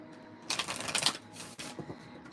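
Tarot cards shuffled by hand in a short, crisp riffling burst, then a brief pause and a second softer round of shuffling, close and alone without voices.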